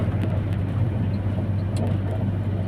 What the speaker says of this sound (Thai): รถสวนไป